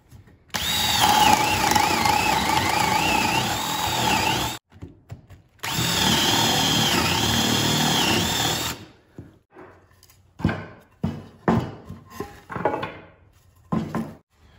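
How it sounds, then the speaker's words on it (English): A spade bit in a power drill bores through a 2x4, two long steady whining runs with a brief pause between, followed by scattered knocks and clatter of wood being handled. "we're gonna drill with that same spade bit all the way through one of them and halfway through the other"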